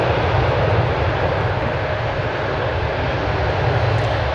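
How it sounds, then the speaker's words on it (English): A jet airplane taking off at DFW Airport makes a loud, continuous broadband engine roar that stays level and close throughout, with no voices. "the one taking off now, Flight 1294."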